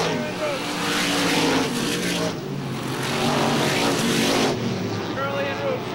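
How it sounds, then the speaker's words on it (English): ISMA supermodified race cars roar around the Star Speedway oval in 1996, a steady loud engine drone swelling and fading as they pass, under continuous race commentary. "Curly and Roof still side by side down the backstretch."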